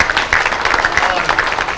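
An audience at a women's honour award event claps steadily for nearly two seconds, the clatter of hands mixed under a voice talking.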